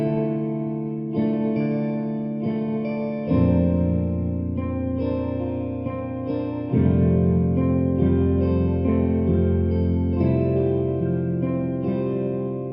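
Sustained synth-style chords run through a modulation effect from a free VST plugin, with a swirling chorus-like shimmer and slight grit, changing chords every few seconds, steady and fairly loud with no talking.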